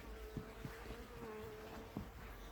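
Bees drone in a garden, a faint, steady buzzing hum with a few soft taps and rustles nearby.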